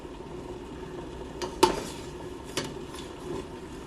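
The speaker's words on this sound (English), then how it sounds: "I'm just gonna use a spoon just to make sure that they're not sticking" A spoon stirs homemade ravioli and pierogis in a pot of water, producing a couple of distinct metallic clinks against the pot over a soft background hiss, near and sparse.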